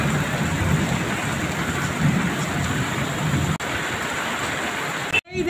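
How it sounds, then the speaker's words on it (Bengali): Heavy rain pours in a steady, dense hiss outdoors along a street during a storm, with a brief sharp crack near the end. "খুব জোরসে বৃষ্টি হচ্ছে"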